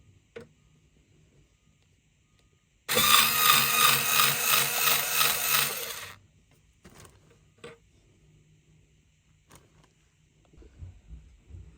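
A handheld power tool whirs loudly for about three seconds while backing large screws out of furniture during a room rearrangement, followed by scattered faint clicks and knocks as parts are handled in a quiet room.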